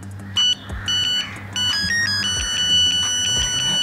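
A Nokia 6510 mobile phone ringtone plays a bright electronic melody of steady beeping notes, the tune of a famous tomato ketchup advert song, close and clear, running continuously with no voices.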